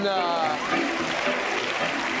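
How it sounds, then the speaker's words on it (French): A French TV game show studio audience applauds steadily as music plays to welcome a contestant, a dense wash of clapping under sustained musical tones throughout. "Accueillons, s'il vous plaît, en musique et sous les applaudissements, Miss Catherine."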